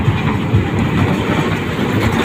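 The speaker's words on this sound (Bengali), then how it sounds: "এটার ভিতরে থেকে ট্রেন আসে" A model train runs out of a cement-built display, giving a steady close rumble and rattle without pause.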